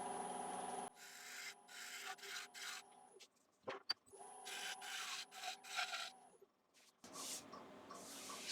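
A lathe gouge shear-scrapes an ash bowl, lifting light shavings in a steady close rasping scrape with repeated passes, a brief pause and a couple of sharp knocks midway.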